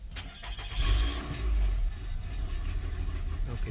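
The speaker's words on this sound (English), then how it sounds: "It's a cold start right now." A 2013 Nissan Altima engine idles steadily just after a cold start, with a low, constant rumble and a slight hesitation early on, no voices over it.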